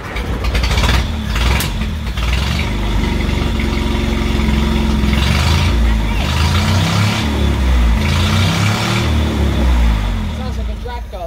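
A 1968 Bedford CA ice cream van's engine turns over and runs with a steady, low, rough rumble throughout, close and loud, while people talk over it.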